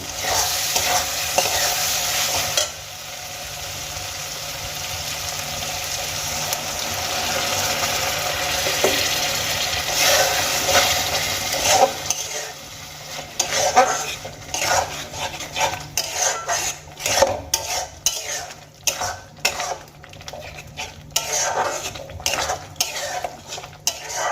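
Chicken sautés in a pan after the reserved chicken-boiling stock is poured in, for a Bengali-style chicken bhorta. A steady close sizzle comes first, then a spatula stirs and scrapes against the pan in quick rhythmic strokes. No one speaks.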